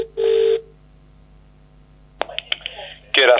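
Telephone ringing tone heard while a call to an estate agent's office waits for an answer: a long electronic ring burst, a pause, then a clicking connection and a voice coming on the line.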